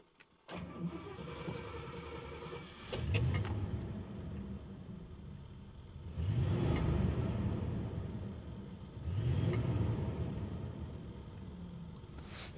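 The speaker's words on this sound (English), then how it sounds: "every time I rev the engine, the car just almost gives a little wiggle of excitement" A 1970s Bentley T2 (Silver Shadow II) engine starts, then revs up three times with deep roaring surges, dropping back to a steady idle between each rev. It is close and loud.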